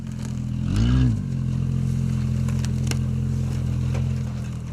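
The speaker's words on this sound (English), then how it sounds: "I've never heard cars make noises like this, mate." A car making odd noises while driving gives a low droning engine hum with a brief rising and falling whine near the start, plus occasional clicks and rattles, steady and close.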